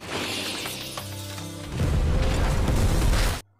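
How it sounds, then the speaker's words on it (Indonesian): A large blast tears through the main building of a school in a Korean drama, heard as a loud, sustained roaring rumble that swells after a tense tonal build and then cuts off abruptly. "Semua yang berada di gedung Solbong sangat histeris menyaksikan ledakan di gedung utama."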